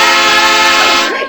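A loud train horn sound effect blares as one sustained, harmonically rich tone, then fades and drops off at the end.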